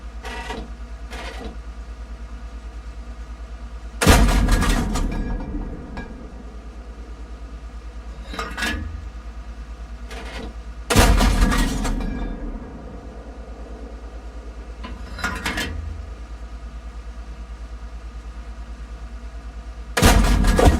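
Four heavy tank cannon shots in the World of Tanks game boom out at intervals of about seven seconds, each a loud blast with a brief rumbling tail, over a steady engine hum and a few lighter clanks between.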